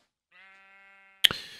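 A sheep in modded Minecraft gives one drawn-out, nasal bleat, thin and steady, followed at once by a sharp click and a brief clatter of game sound.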